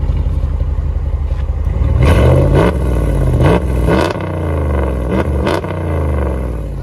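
A 2017 Ram 1500 with a 5.7L V8 and muffler delete revs loudly up close, with several sharp throttle blips rising and falling over a deep, steady idle rumble.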